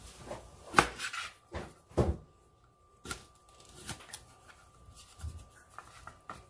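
Knife chopping cucumbers on a cutting board for kimchi, a handful of sharp separate thuds at an irregular pace, close and fairly quiet, with faint handling noise between cuts.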